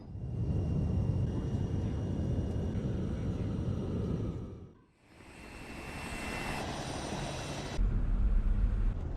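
A military airplane flies toward El Paso, Texas, its steady broadband engine roar continuous throughout, dipping briefly midway and then swelling louder near the end.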